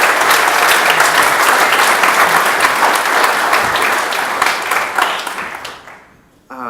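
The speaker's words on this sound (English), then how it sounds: "Another round of applause for Roland" A keynote audience gives Roland a loud, sustained round of applause that holds steady for several seconds, then thins out and fades near the end.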